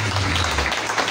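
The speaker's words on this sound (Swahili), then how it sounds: "Pigeni makofi mazuri." A church congregation clapping together, a dense rumbling wash of applause with a low hum beneath it, loud and close for a brief moment.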